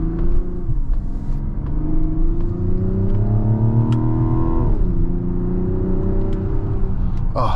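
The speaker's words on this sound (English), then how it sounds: "Love this inline-6 sound here." A Mazda CX-90 turbocharged inline-six in sport mode accelerating uphill, a loud, smooth rising engine note climbing through the gears with a brief dip at a shift, heard from inside the cabin.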